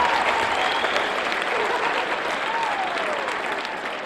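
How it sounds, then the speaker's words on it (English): A talk audience of teens gives itself a round of applause, a loud, dense burst of many hands clapping that holds steady and then begins to taper slightly, with faint cheering mixed in. "Give yourselves a round of applause then for being a good audience."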